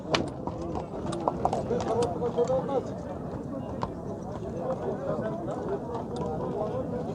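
Hooves of a horse clip-clop steadily as it is led in, a young Kyrgyz ulak horse turning four, the footfalls close and moderate under continuous outdoor talk from several people.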